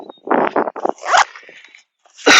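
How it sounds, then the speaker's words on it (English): A zipper on an Eberlestock fanny pack ripped open outdoors: a quick rasping pull midway and a sharper loud zip at the very end, among light rustling and handling noise. "It's got this nice zipper in the back. You can just rip it open"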